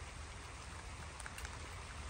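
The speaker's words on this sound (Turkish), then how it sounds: "Evet, yağmur geldi." Rain begins falling outdoors in a village garden, a steady soft hiss of drops spread evenly, faint and constant with a few slightly louder patters.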